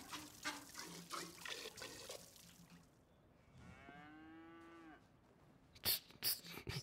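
A cow in Red Dead Redemption II gives one long, low moo while being milked, set between splashing, trickling water-like sounds and a few sharp clicks near the end.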